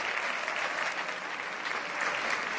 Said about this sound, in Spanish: quiero pedirles que se aplaudan ustedes mismos porque es súper necesario